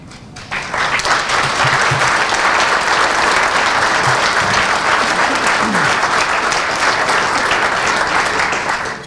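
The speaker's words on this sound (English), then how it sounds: "these young people deserve a round of applause." Loud, sustained applause from the crowd at a business awards ceremony for young people, starting abruptly after a brief pause, then a dense, steady roar of clapping with faint murmurs underneath before it trims off.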